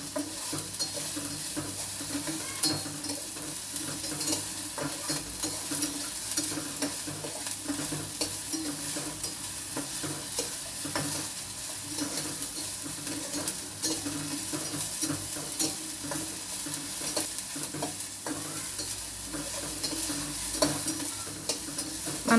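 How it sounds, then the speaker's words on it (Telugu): Vegetable ragi soup is stirred in a pan over a low flame, giving a continuous soft sizzle with scraping stirring strokes, faint and steady for the whole stretch, with no voices. "అందుకని కొంచెం కలుపుతూనే ఉండాలి"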